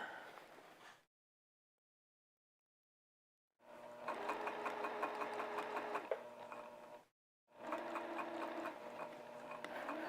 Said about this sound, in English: You kind of have to move the vest a little bit as you're sewing this baby